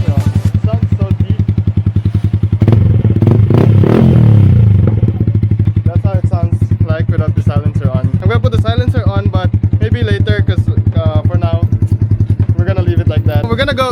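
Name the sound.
Yamaha Sniper 155R motorcycle with Akrapovic exhaust, silencer off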